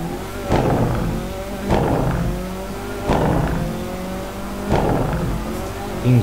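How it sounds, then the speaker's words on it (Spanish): Citroën C4 WRC rally car in Assetto Corsa revving hard through repeated gear changes with the turbo spooling, four sharp upshift cycles about every second and a half, loud and close. "Increíble el cambio de las marchas, cómo entra el turbo en el coche"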